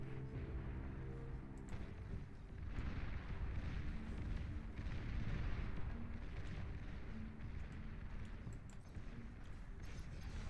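Destroyer guns firing in the real-time strategy game Beyond All Reason, a dense, continuous barrage of booming shots and rumbling impacts layered throughout with no voice over it.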